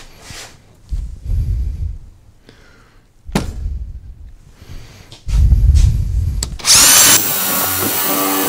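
A power drill bores holes in wood for a rustic stool, with several short spurts of the low motor whirring and one longer loud run near the end, separated by quiet pauses.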